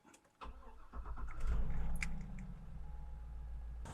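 A Chevrolet Suburban engine cranks and catches after a jump-start, a brief starter whir followed by a rising roar that settles into a steady close idle.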